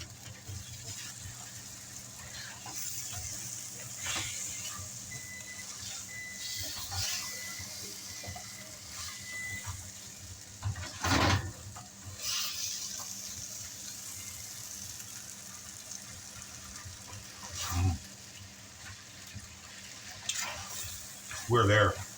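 Chicken and broccoli stir-frying in an overfull wok, a steady close sizzle and crackle with scraping stir strokes and occasional louder bursts throughout.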